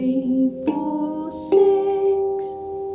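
F Low Pygmy handpan struck by hand, a few ringing tuned notes with long sustaining overtones, close and moderately loud, each hit decaying slowly into the next.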